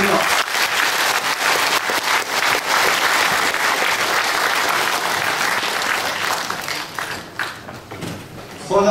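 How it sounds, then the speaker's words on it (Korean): A crowd at a funeral honor guard unit's launch ceremony gives strong applause, a dense, loud and sustained clapping that thins slightly toward the end. "다시 한번 힘찬 박수를 부탁드립니다"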